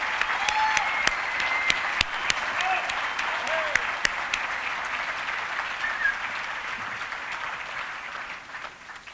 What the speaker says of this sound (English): How about one more huge round of applause for all of them?